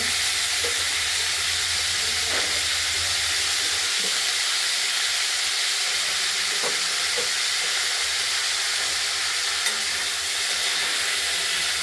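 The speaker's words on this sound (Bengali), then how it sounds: "এবার তেল হয়ে গেছে ছেড়ে দিলাম ভেজে নিন" Cauliflower pieces frying in hot oil for a potato and cauliflower curry give a steady, dense sizzle that runs throughout, with a few faint clinks and pops over the hiss and no talking.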